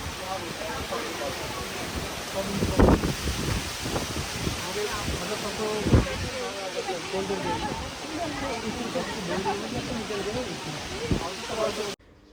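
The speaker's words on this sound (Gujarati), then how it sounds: "આજે પવન બહુ એટલે બહુ હતો" Strong wind on an elevated hilltop temple site buffets the microphone in a continuous rushing roar, with occasional heavier gusts and muffled voices underneath.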